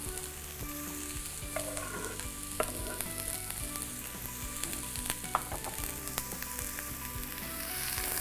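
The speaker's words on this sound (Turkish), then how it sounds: "Soğanlarımı tavaya atıyorum." Onions sizzle in a frying pan heated to 180 degrees, a steady crackling fry with light stirring scrapes and small pops throughout.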